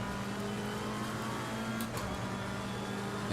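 A race car engine in the video game Assetto Corsa Competizione, practising at Bathurst, drones steadily at high revs, a harsh continuous buzz with a brief flutter near the middle, and no voices.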